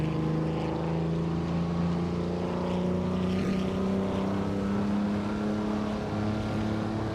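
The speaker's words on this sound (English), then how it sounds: "Shran is driving a 1966 Lotus Cortina, known for its agility and lightweight." A 1966 Lotus Cortina race car in a racing video game drones loudly and steadily throughout, with a continuous engine hum and slowly shifting harmonic tones and no talk over it.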